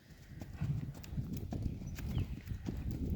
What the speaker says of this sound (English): This one is an 11-year-old papered Tennessee walking horse.